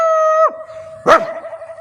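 Up close, a person imitates a dog: a loud, drawn-out whining howl that drops off, then a single sharp bark.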